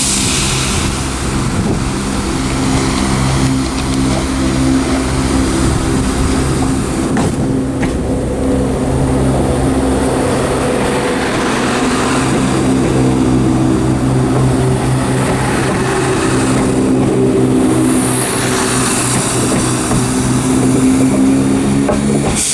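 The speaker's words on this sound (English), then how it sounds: "departing now is a 1727 ScotRail service to Glasgow Queen Street." A ScotRail train to Glasgow Queen Street pulls out of Inverness station, its engine droning steadily and loudly with a low rumble, mixed with wind buffeting the microphone.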